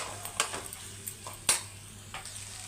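Palak rice being stirred in a pan, with a few scattered scraping and clinking knocks of a spoon against metal, fairly quiet over a low steady hum.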